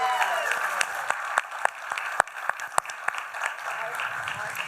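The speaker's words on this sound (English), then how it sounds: "Give it up for Piero, who started this project." A crowd at an East LA music gathering claps, lighter and more scattered applause with distinct individual claps standing out and chatter mixed in.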